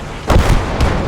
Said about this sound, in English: That's a Katusha.